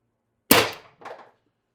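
An Umarex TR50 CO2 air pistol fires a 12.7mm steel ball bearing: one sharp, loud crack followed by a short, softer metallic echo or impact, heard alone.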